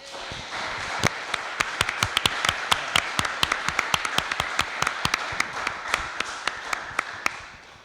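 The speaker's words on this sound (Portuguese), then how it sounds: "Uma salva de palmas para os nossos pastores." A church congregation claps for its pastors at a Sunday communion service, a dense run of sharp handclaps building and holding steady at moderate loudness, with no voices over it.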